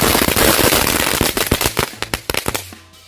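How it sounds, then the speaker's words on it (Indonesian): Two packs of dino egg firecrackers go off together, a dense rapid crackling barrage of loud pops that thins into scattered separate bangs before stopping. "kita nyalain mercon telur dino pretek. Ini sekaligus 2 pak guys."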